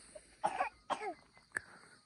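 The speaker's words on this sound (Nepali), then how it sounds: "चिसो खोकी छ" A person with a cold coughs several times in short bursts, close and fairly loud, with a throat-clearing sound between them, outdoors in a village settlement and with no talk.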